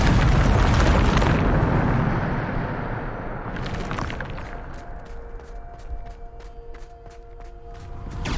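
A Bombarda spell in Hogwarts Legacy goes off as a loud, close explosion with a heavy rumbling boom that decays over several seconds, followed by faint footsteps and scattered small thumps.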